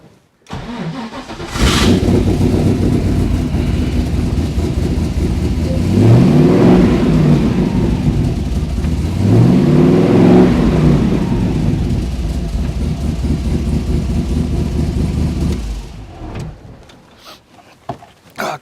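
Mazda Miata race car engine running indoors: it starts abruptly, then holds a loud, steady idle with two rising-and-falling revs in the middle before cutting off, close to the listener.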